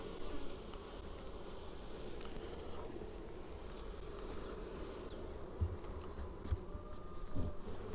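Honey bees buzzing steadily around an opened hive while frames of honey are pulled, a continuous low drone with a few louder passes close by, no talk.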